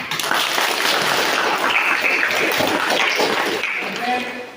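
Students in a classroom give a burst of group applause, dense and steady for several seconds before it tapers at the end.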